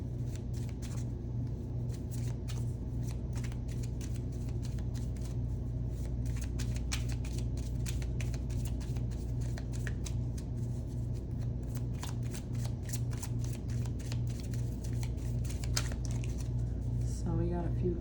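Tarot cards are shuffled in a long, continuous riffling and flicking patter over a low background hum, while a voice talks over the shuffling.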